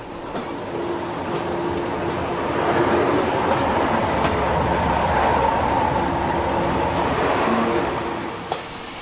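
A train rolls past on a railway line heading toward Pickering, a steady loud rumble with rail clatter building and fading over about nine seconds, with no voices.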